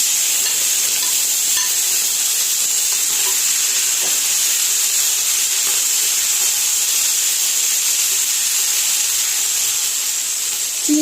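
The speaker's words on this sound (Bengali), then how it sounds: "চিংড়ি মাছগুলো খুব বেশি ভাজতে হবে না, বেশি ভাজলে চিংড়ি মাছের টেস্ট থাকে না, ওর জন্য আমি হালকা করে ভেজে নেব" Prawns for a calabash prawn curry fry lightly in a pan, giving a loud, steady, close hiss of sizzling oil that runs unbroken and alone with no voices.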